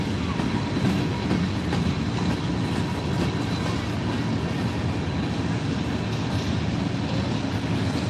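A Norfolk Southern freight train hauling auto racks rolls steadily past at close range, a continuous loud rumble and wheel clatter on rails that holds unbroken throughout.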